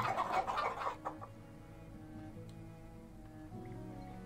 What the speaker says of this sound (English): Why are you not slaughtering your chickens?